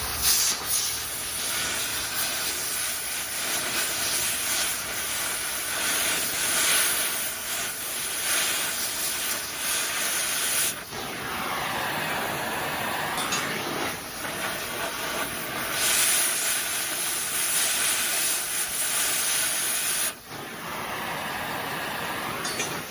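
An oxy-acetylene torch heats 3/8 inch steel plate for cutting targets, giving a loud, steady, close roaring hiss that continues throughout, with two brief dips in the flame noise and no talk.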